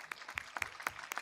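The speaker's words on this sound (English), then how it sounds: "I request the audience to kindly give them a big round of applause." A brief, faint scatter of audience applause at a school passing-out parade, a few distinct claps spaced irregularly rather than a full ovation.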